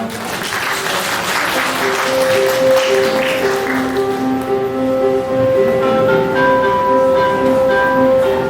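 A large wedding hall audience claps warmly and steadily for the groom's father, while a soft instrumental tune with sustained tones rises beneath and carries on as the applause fades.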